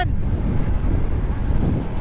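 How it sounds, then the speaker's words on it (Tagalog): Strong wind buffets a microphone on a road trip in Sorsogon and Camarines Sur, a dense, steady low roar that fills the whole moment with no other sounds. "Lakas ng hangin."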